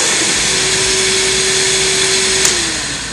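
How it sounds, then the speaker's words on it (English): Kärcher BR 35/12 C Bp battery scrubber-dryer running: a loud, steady broadband roar of the vacuum and spinning brush, close and continuous, with a steady tone that drops slightly at the end and no talking. "The solution's going to flow, my brush is going to spin, and my vacuum kicks on."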